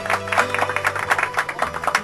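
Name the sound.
applause on GTA Liberty City Stories radio show, video game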